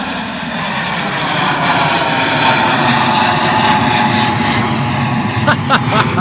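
A Pilatus PC-24 business jet rolls and lifts off at a misty London Luton Airport, its broad engine roar steady and fairly loud throughout, with a few brief nearby knocks near the end and no one speaking.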